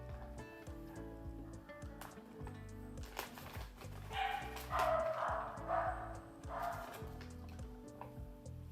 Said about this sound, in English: they are barking. They bark at everything